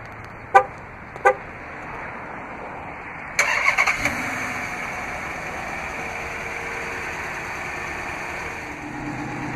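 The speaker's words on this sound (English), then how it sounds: "Just double press the remote start button on the key fob." A 2014 Dodge Challenger R/T 100th Anniversary Edition remote starting: two short horn chirps, then the engine cranks and catches loudly and settles into a steady idle, heard nearby with no talking.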